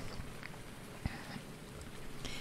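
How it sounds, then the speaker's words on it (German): Steady rain falls in the farming video game Farming Simulator 19, a continuous soft patter with a few sharper drops, heard alone and without talk. "Und es regnet und es regnet. Es hört nicht auf."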